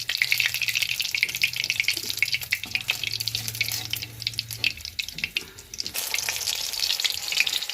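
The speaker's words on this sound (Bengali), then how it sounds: "মচমচ করে ভাজবো না, এমন করে ভাজবো।" Food frying in oil in a pan, a steady close hiss and crackle with watery sizzling throughout, louder again toward the end.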